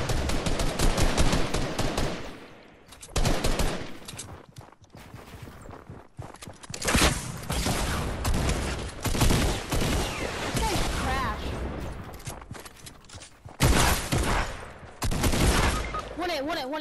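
Rapid gunfire and heavy combat shotgun blasts fill a competitive video game match, loud and dense in long volleys with brief lulls, while players talk over the action.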